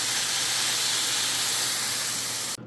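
Bacon sizzles in a pan, a dense, loud, steady hiss of frying fat that holds evenly throughout, then cuts off abruptly at the end, with no voices.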